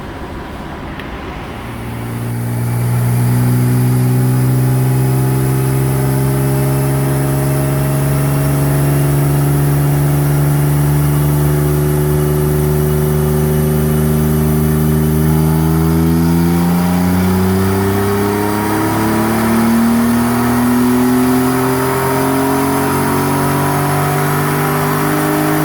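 A 1991 Mitsubishi 3000GT VR-4 revs on a chassis dyno. A loud, steady engine note climbs in pitch through a long pull, dips briefly near the end, then winds back up. There is no talk.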